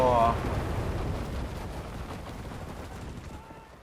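A loud, rumbling explosion booms in the WWII shooter game Enlisted, a heavy blast at the start that decays into a long, noisy rumble and fades away over a few seconds.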